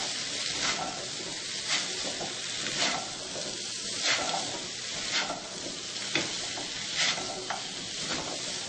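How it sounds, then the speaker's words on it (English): Potatoes and salt are stirred through hot oil in a frying pan for aloo methi, a steady sizzle broken by regular scraping strokes of the spoon, close and continuous with no talking. "we're going to go ahead and add in our potatoes. And some salt. Right. Give it a good mix."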